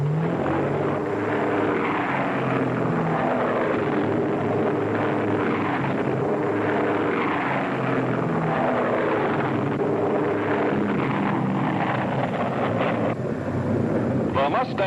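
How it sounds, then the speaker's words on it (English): WWII P-51 Mustang fighters in an aerial battle, a steady droning roar of aircraft engines that rises and falls throughout, heard under a narrator's voice. "The Mustangs dropped their wing tanks and plunged into the fight."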